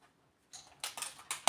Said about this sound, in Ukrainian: Ножицями розрізаємо.